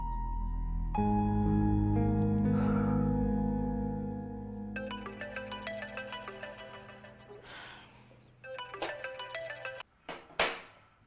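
A mobile phone left behind in a room rings with a melodic electronic ringtone. It first sounds as a sustained chord over a low hum, then turns into bright repeating note patterns that stop and start, with a few thumps near the end.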